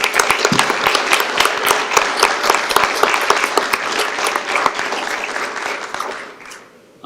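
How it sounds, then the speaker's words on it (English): People at a school board of education meeting applaud law enforcement officers: loud, crisp, steady clapping from a roomful of people lasting about six seconds, then tapering off as a voice begins. "Please join me in a round of applause for our law enforcement."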